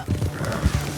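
A horse in Red Dead Redemption 2 gives a short, loud whinny over rapid galloping hoofbeats, close and brief with no talk.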